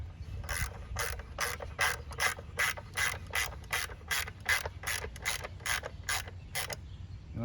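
Ratchet wrench working bolts on the high pressure fuel pump of a 2015 Buick Verano, a rapid series of about sixteen sharp clicking pulls at a steady pace, close, with no talking.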